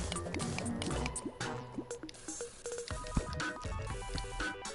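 Water drips and trickles down a pipe in Terraria, a quick run of small liquid plinks and splashes mixed with other game sounds at modest volume.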